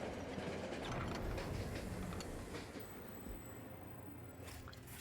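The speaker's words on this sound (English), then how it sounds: "The train jerks to a halt to avoid the chaos portal that spontaneously appeared." A video-game train in Monster Train lurches to a halt, with a loud, dense rumble of wheels and rattling carriage noise that eases off slightly toward the end, with no voices.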